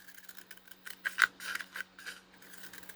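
Scissors snip through paper for a firecracker painting craft, a few soft quiet cuts and rustles with one sharper, louder snip near the middle, no talking.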